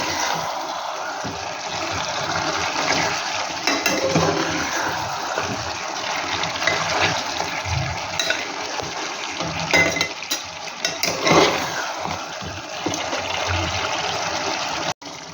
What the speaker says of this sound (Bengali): এবার আমি জল দিয়ে আর কুকারে ঢাকনাটা বন্ধ করে সিটি লাগিয়ে দেব